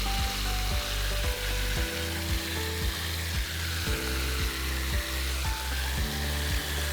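Hose water drains through a gutter with a Gutter Stick in it, making a steady hissing, sizzling trickle that runs unbroken from start to finish, close and fairly loud.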